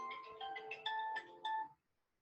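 A phone ringtone sounds during an online webinar, a bright electronic melody of repeated high tones in several short bursts over about two seconds, moderately loud, then silence.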